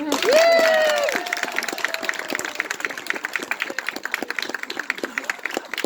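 Outdoor audience at a Renaissance faire Shakespeare performance breaking into sustained applause after a loud whistle or shout at the start, steady clapping from a crowd at moderate distance.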